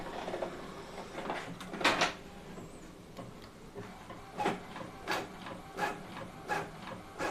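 An Epson L11050 or L18050 inkjet printer runs softly in quiet mode with a steady low whir, punctuated by repeated muted clicks and shuffles as the print head moves back and forth.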